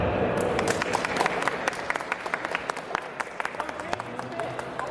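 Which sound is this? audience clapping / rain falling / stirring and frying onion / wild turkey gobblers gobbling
audience clapping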